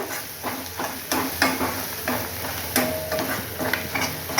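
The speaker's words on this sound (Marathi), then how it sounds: "एक चमच मसाला घेतला आहे आता हे चांगलं मस्त परतून घ्यायचं" Spice masala with turmeric sautéing in a pan for Vidarbha-style patvadi rassa, a steady close sizzle broken by repeated scraping stir strokes, with no voices.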